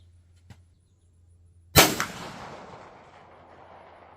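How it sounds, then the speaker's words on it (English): A single sharp shotgun blast from a .410 firing a custom slug handload, loud and abrupt after a faint click, followed by a long rolling outdoor echo that fades over two seconds. "I'll shoot one more."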